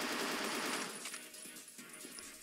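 Rapid gunfire rings out in a shooter video game, a dense, busy burst of shots loudest at the start and thinning into scattered cracks over a couple of seconds.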